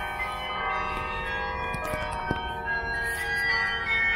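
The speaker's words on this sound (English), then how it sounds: "And that's where the pretty bell sounds are coming from." Bells ring from a building, sustained bright chiming tones layered over one another with a few sharper strikes and a soft background hum.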